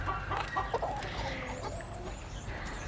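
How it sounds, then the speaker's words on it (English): A rooster on a spring farm clucks several times in short bursts close by, with outdoor ambience behind it and other birds chirping faintly in the distance. "like this guy right here is a rooster. He's coming at me"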